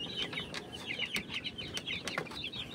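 Gamefowl roosters of Sweater Black and McLean breeds cluck and chatter in their pens, a steady busy stream of close bird calls with occasional sharper squawks and faint wing rustles.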